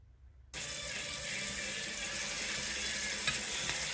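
New York strip steaks cooking in a pan, a sudden loud steady sizzle that begins after a short quiet moment and continues evenly, close and alone.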